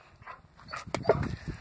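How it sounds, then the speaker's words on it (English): A dog barks while treeing a raccoon outdoors, with several sharp, fairly close barks and yelps coming in an uneven rhythm. "She is a powerful dog."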